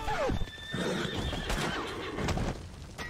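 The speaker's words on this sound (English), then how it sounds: "The horse went down with its owner." A horse in Red Dead Redemption 2 gives a loud, shrill neigh near the start, followed by hoof clatter and rumbling, chaotic action noise with sharp hits and scattered thuds.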